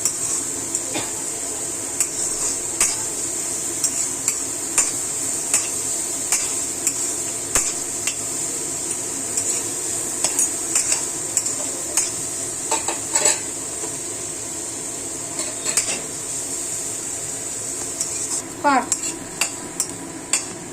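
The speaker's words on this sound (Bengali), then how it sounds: "আমরা একটু পেঁয়াজ, রসুন আর ক্যাপসিকামটা সটে করে নেব।" Onion, garlic and capsicum sauté in a pan for a fish soup, with a steady loud sizzle throughout and frequent scraping, clinking stirs of a utensil against the pan, no voices.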